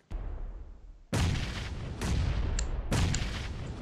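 Booming blasts in a first-person shooter video game, three heavy explosions each with a long rumbling tail, loud and close with no talking between them.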